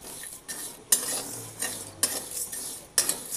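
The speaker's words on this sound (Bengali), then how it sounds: "এবার বাকি মশলাগুলোকে হালকা আঁচে 4 থেকে 5 মিনিট নাড়াচাড়া করে নেব।" Whole spices for a sweet-sour mango pickle dry-roast in a pan over a low flame, with a spoon scraping and stirring in several distinct bursts over a soft, steady background hiss.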